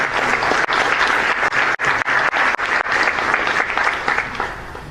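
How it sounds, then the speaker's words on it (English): Summit audience giving a loud, close round of applause, a dense burst of many hands clapping vigorously with sharp individual claps breaking through and fading slightly toward the end. "a round of applause as well"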